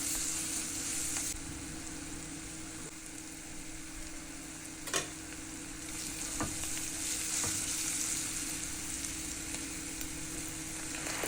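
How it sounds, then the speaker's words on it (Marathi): Garam masala and ginger-garlic paste sauté in a pan for palak kofta curry, a steady close sizzle with a few sharp clicks of a spoon against the pan, no voices. "थोडंसं गरम मसाला आणि आलं लसूण पेस्ट असं आपल्याला टाकायचं आहे आणि छान हे परतवून घ्यायचं आहे"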